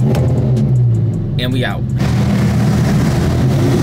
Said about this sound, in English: start my race car